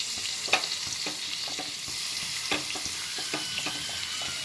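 Diced capsicum sautéing in melted butter in a pan, a steady close sizzle with scattered light stirring clicks throughout.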